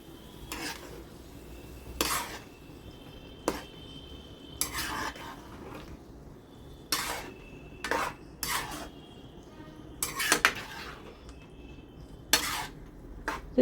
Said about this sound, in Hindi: चावल डाल के हम इसको चला देंगे, मिक्स कर देंगे शीरे में हल्के हाथों से